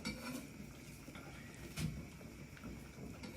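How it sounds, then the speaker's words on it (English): Knife work on an onion at a home kitchen counter, quiet taps and clinks of blade and utensils against a board, sparse and faint with no talking. "all I'm doing now is just chopping up or slicing up that onion"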